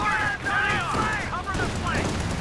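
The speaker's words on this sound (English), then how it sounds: "Black half track shoots at the lieutenant though." Half-track gunfire in the strategy game Company of Heroes 2 during a one-on-one match, bursts of shooting and battle noise mixed beneath continuous talking.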